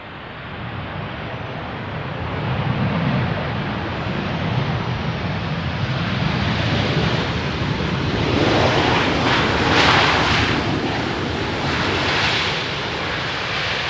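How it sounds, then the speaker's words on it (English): A KLM Boeing 737 landing on runway 18R at Amsterdam Schiphol, a broad rushing jet roar that swells toward the middle and lingers over wind noise, heard from outdoors with no talk. "first this Boeing 737 from KLM"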